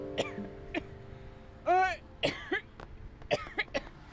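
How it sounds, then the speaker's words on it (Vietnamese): An old woman coughs several times in short, raspy bursts spread across a few seconds, fairly close, with a brief voiced sound among them. "Bà ho cái gì?"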